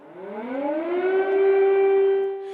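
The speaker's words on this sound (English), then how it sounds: "the wail of air raid sirens has become ubiquitous" An air raid siren in Ukraine winds up from a low growl into a loud, steady wail, close and sustained.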